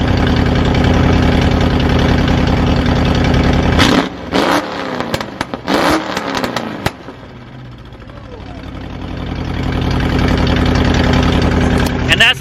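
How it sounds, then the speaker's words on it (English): Coyote-swapped 1968 Ford Mustang Fastback with a Pypes Violator exhaust, loud and near, idling rough then blipped in several sharp revs that crackle as they fall back before settling into a rising idle. "that's the Pypes Violator exhaust right there for you, ladies and gents"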